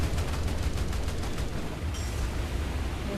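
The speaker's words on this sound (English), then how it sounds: "And I overheated my gun." A naval machine gun on a ship fires in a continuous rattling stream during a night battle in War Thunder, dense and steady at moderate loudness, with no talking.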